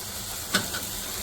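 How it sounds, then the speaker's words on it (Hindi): Tomato masala for keema biryani sizzling and frying in oil, a steady soft hiss with one brief louder spatter midway, close and alone without talk. "बस अब हम इसको भूनते हैं।"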